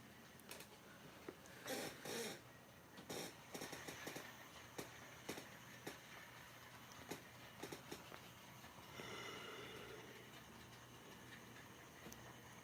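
A cheap, repainted model train runs along its track with quiet, steady rolling and a string of sharp rail clicks, faint and close, with no talking.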